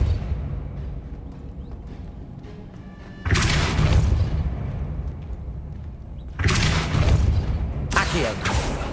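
Spell blasts from Depulso cast in Hogwarts Legacy, two heavy booming bursts with broad rumbling noise, loud and close over a low ambient game backdrop.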